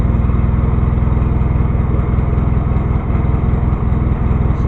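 A small Honda engine starts and runs close by, a steady loud chug with a pulsing low-pitched beat and no pause across the whole stretch.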